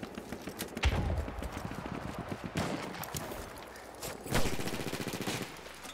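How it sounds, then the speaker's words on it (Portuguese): Gunfire in a Battlefield 1 Domination match: rapid bursts of close and distant shots crackle in clusters, with louder volleys around the first and fourth seconds over a busy battlefield din. "De onde tá vindo esse tiro aí?"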